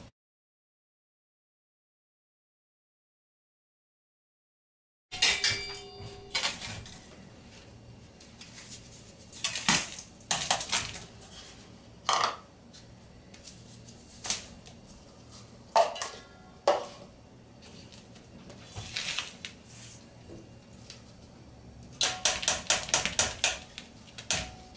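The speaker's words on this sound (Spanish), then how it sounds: "le vamos a agregar estos 3 plátanos que los vamos a moler" Three bananas being mashed in a bowl with walnuts and butter for banana bread, heard as irregular clinks and taps of utensil on bowl that come in short bursts after a silent opening.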